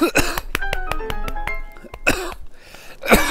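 A person coughs in several sharp, close bursts amid bright game music and chatter from a Zelda: Breath of the Wild session, with a cluster near the start and more around two and three seconds.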